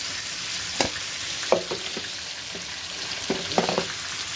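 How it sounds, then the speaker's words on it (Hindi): Red chillies fry in hot oil in a pan while spinach, potato and chicken are being cooked, a steady sizzle with a few sharper crackles and stirring clinks, fairly close and with no talking. "ये मैंने लाल मिर्चें डाल दी।"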